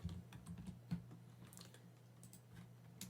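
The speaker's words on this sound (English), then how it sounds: "To do that, we will type notepad file1.txt." Someone types a short command on a computer keyboard, a run of soft, close key clicks in an irregular rhythm over a faint steady hum.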